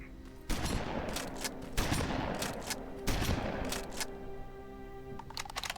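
Rapid bursts of gunfire from the video game Terminator Resistance ring out in several loud volleys separated by brief pauses, with a few scattered single shots near the end.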